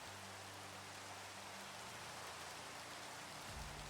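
Steady hiss of rain in a Minecraft-style video game realm, a soft even wash of falling drops heard alone at low level throughout.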